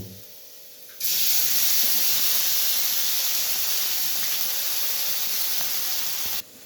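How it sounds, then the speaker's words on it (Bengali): Ginger garlic paste hits hot oil over golden-brown onions in a pan, breaking into a loud, steady sizzling hiss that starts abruptly, holds evenly for several seconds, then drops back to a quieter background. "আদা রসুনটা জাস্ট একটু আমি ভেজে নিলাম"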